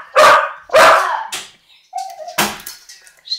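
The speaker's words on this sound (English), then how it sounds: "Stupid dog. He's always interrupting me." Dog barking indoors, three or four loud, close barks in quick succession with a few softer yips and whimpers between them, no talk over them.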